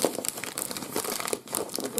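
Wrapping paper is torn off a birthday parcel, giving close, continuous crinkling and ripping with brief louder tears.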